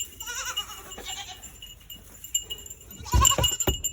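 Cashmere goat bleating: a faint wavering call up close at the start, then quieter rustling and knocks, ending with louder bumps and another short bleat.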